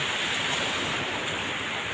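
Big ocean waves breaking at a coastal fishing spot, heard as a continuous broad wash of surf roar, steady and fairly loud with no distinct individual crashes and no voices.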